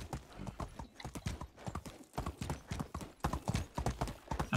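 A horse's hooves clip-clop in a quick, steady rhythm while it is ridden across ground in the video game Medieval Dynasty, close and clear throughout.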